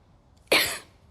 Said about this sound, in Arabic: بكح ليه ها؟